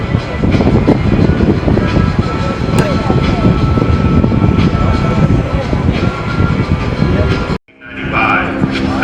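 Extra 330 LX aerobatic airplane flown by Matt Chapman at a Red Bull air race, its engine roaring loud and continuous as it passes near, with an announcer talking over it before the sound cuts out abruptly.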